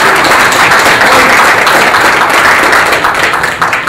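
Dense, loud applause fills a boxing promoters' press conference in Chicago, a steady wash of many hands clapping throughout.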